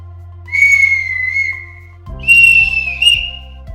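Two shrill clay whistles from Opishnia, Ukraine, sound one after the other, each holding a high, slightly wavering tone, the second a bit higher and trilling near its end.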